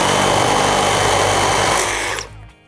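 A Makita JR002G cordless reciprocating saw runs in orbital mode, a loud steady buzzing whine held close for about two seconds before the motor cuts off and winds down.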